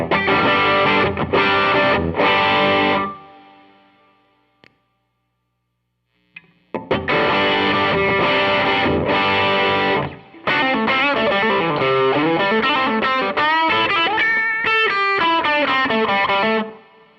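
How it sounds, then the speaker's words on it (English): Heavily distorted electric guitar through an Analogman King of Tone pedal in distortion mode plays saturated chords, stops briefly into silence, then returns with crunchy riffs and a sustained lead line. "So this is the distortion mode, and this is the overdrive mode."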